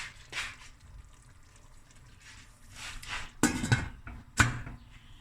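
Metal pot and lid clank a few times, sharp clattering hits scattered among quieter shuffling and faint water sounds nearby.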